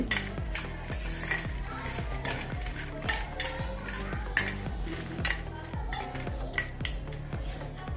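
A spoon stirs crispy fried okra (ladies finger) in a pan, making regular light scraping and clinking strokes at a steady rhythm over a low, continuous sizzle.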